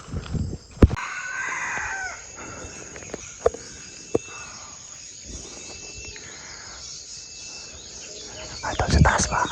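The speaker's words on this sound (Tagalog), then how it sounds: "Doon ang madalas na marinig ko na tilaok na labuyo" A wild red junglefowl crows in the distance over steady insect buzz and forest ambience, with a few sharp clicks and rustles nearby.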